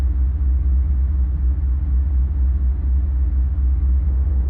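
A diesel train rolling in Microsoft Train Simulator, giving a steady, loud low rumble of engine and running gear that holds even and unbroken throughout, with no voices.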